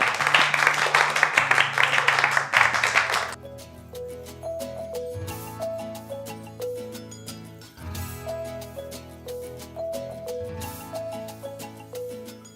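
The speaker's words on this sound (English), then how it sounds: "Clap your hands." A class of students clapping their hands in a classroom lesson, a dense burst of applause for about three seconds that then gives way to music with sustained tones and a melodic line.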